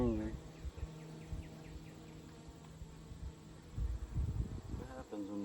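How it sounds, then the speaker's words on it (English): Angry honeybees buzzing close by as frames are rolled during a summer hive inspection, a steady droning hum with a louder surge near the end. "Rolled some bees, there they are, they're angry."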